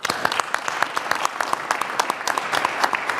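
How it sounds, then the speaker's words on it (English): Applause at a Lynn city council meeting, a round of clapping for groups of athletes, steady dense claps from a sizable room, fairly close and continuous without talk. "want to give one more round of applause to both athletes."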